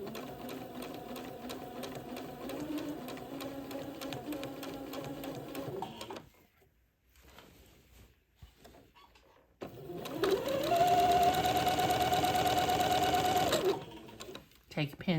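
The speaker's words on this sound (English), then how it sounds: "Just go backward and forward a couple of stitches just to tack it into place." A sewing machine stitches a seam on a child's day gown, running steadily for several seconds, pausing briefly, then whirring again loudly and fast, backstitching to tack the seam.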